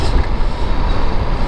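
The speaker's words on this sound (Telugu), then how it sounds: "Dump yard lorry." A heavy dump yard lorry goes past on a city road in early morning traffic, giving a loud, close, broadband engine and tyre rumble that lasts the whole moment, with no talk.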